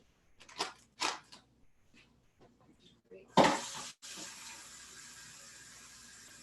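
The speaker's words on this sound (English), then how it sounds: "So I'm actually gonna add 2 cups of vegetable broth and then 1½ cups of water to this recipe." Vegetable broth and then water poured into a container during meal prep, with a loud splashing pour lasting about half a second, then a steadier quieter trickle, after a few soft handling clatters.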